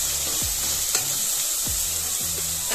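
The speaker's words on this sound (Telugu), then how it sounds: "ఆనియన్ బాగా ఫ్రై చేసుకోవాలి. చూడండి, ఆనియన్ బాగా ఫ్రై అవుతుంది." Chopped onions fry in hot oil in a cooker pot for chicken curry, with a steady loud sizzle under repeated scraping stirs of a spoon, close up and with no talking.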